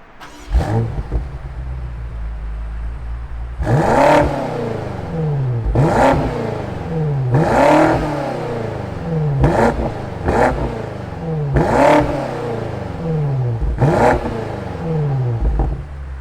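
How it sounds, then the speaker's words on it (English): A 2020 BMW X6 M Competition cranks and fires up, then gets blipped through six loud, evenly spaced revs that rise and fall sharply over a steady idle rumble, heard close with no talk. "let's fire it up and have a little bit of an eargasm"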